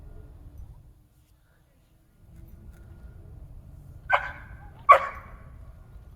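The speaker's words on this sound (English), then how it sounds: "right there you can hear him bark, vocalizing" A dog gives two short, sharp barks, close and distinct, about a second apart, after a stretch of quiet low rumble and faint background noise.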